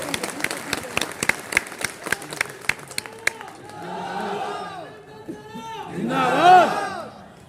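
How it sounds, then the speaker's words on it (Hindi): An audience at a public event in Morena welcomes a minister, first with scattered sharp claps, then a swelling crowd roar of cheering and voices that peaks near the end. "जोरदार तालियों के साथ उनका स्वागत किया जाए"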